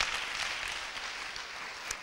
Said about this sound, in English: Clap for the Lord Jesus Christ in his life again